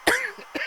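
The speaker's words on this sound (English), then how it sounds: "If you can hear, I'm still getting over my cough." A person with a lingering cough gives two short, sharp coughs close to the microphone, spaced about half a second apart.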